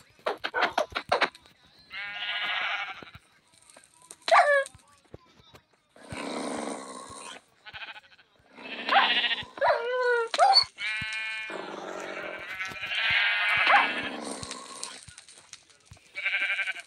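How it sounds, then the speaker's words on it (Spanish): Sheep in a video game bleating in a rapid series of loud, separate calls, close and clear, with a few sharp clicks between them and no talk over them. "Ovejas."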